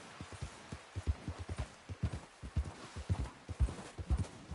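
Horse hooves clip-clopping at a steady trot in the video game Red Dead Redemption 2, a brisk regular rhythm of dull thuds that carries on throughout over a soft background hiss.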